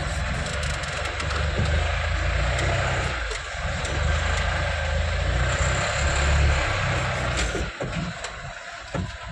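A loaded pickup truck's heavy engine rumbles low and steady, swelling slightly as it drives off, with a faint hiss and clank near the end; no speech.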